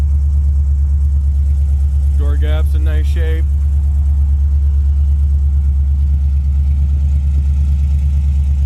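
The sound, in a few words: car engine running, exhaust vibration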